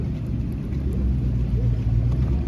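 A vintage truck with a freshly built 345 engine idles and rumbles nearby at a parade, a steady low engine drone with slight swells in loudness.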